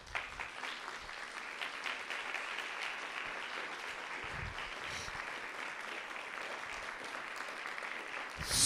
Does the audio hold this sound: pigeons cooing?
no